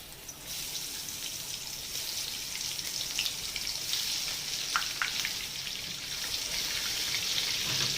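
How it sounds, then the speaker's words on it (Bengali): Eggplant pieces fry in hot mustard oil, giving a steady close sizzle with scattered sharp crackles and pops that grows slightly fuller after the first moment, with no talking. "এবারে আমি এগুলোকে তেলে ভেজে নেব।"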